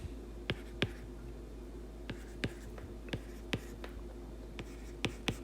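Pen or pencil scratching out an equation on paper, a series of short, faint strokes and taps in an uneven rhythm against a quiet background.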